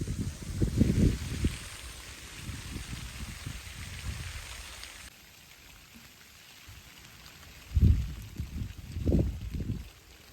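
Steady rain hisses for several seconds and then eases, with occasional low thuds and splashes breaking through the patter.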